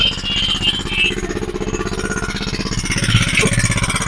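A petrol-powered 1.5 inch water pump engine runs close by with a steady, rapid chugging beat.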